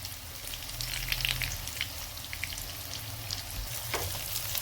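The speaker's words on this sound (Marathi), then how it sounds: "कलर येऊपर्यंत आपण याला भाजून घेणार आहे आणि थोडासा कमी गॅस करून" Bread cutlets shallow-fry in oil in a pan over a lowered flame, giving a soft, steady sizzle with faint crackles throughout.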